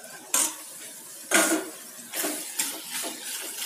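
Bottle gourd sabzi being stirred in a cooking pot, a spoon scraping and clinking against the metal in several distinct strokes over a soft background hiss.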